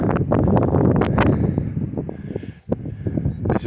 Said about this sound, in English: There's quite some wind now.